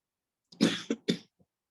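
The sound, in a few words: coughing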